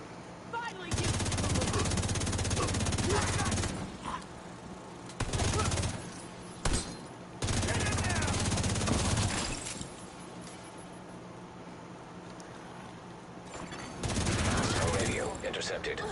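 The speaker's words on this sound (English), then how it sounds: "I hear gunfire." Video game gunfire comes in loud, dense bursts: a long volley near the start, shorter bursts in the middle, a sustained stretch after, then quieter action before a final burst at the end. Faint voices can be heard among the shots.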